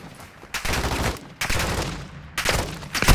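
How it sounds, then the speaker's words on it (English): Heavy automatic gunfire in Call of Duty DMZ comes in three loud, sustained bursts with short quiet gaps between them, close and sharp. "Taking effective fire!"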